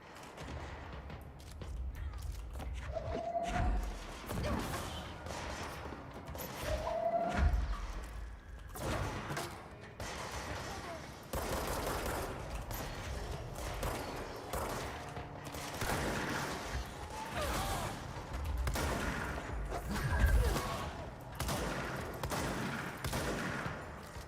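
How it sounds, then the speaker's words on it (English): Gunfire in the video game Control, heard as scattered, mid-distance bursts and thumps that spread through a busy, rumbling game soundscape with no talk. "someone's shooting at something."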